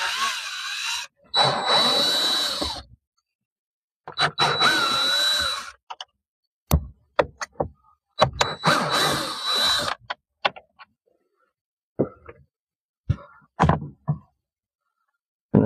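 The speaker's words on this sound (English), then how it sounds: "We use a drill." Several bursts of a power drill whirring during a 2012–2018 Ford Focus car stereo installation, each lasting a second or two, separated by silence and a few sharp clicks and taps.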